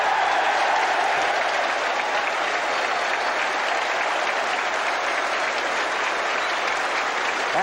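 A cricket crowd of close to 5,000 at a 1974 New Zealand versus Australia test match applauds Turner's century, a dense, steady roar of clapping and cheering that holds loud and unbroken throughout.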